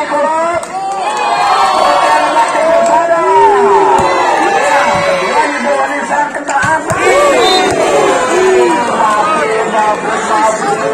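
Trikolor supporters cheering and shouting at the Ampuh Cup 2021 volleyball final, a loud, dense crowd roar with chanting and yells rising and falling continuously, close and energetic.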